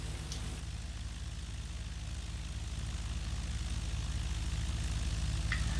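A motor glider's propeller engine runs at full throttle in flight over the Chartreuse mountains, a steady, droning hum with a throbbing pulse that holds constant throughout and grows slightly louder toward the end, with no talk.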